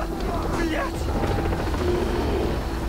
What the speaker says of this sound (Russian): вертолет этот нахрен